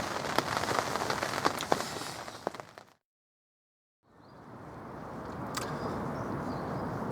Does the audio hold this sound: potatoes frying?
no